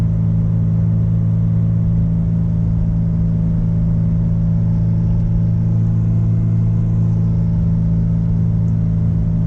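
Steady engine rumble from a Porsche 944 on the road, a low, continuous drone with mild swells, close and fairly loud, with no talking.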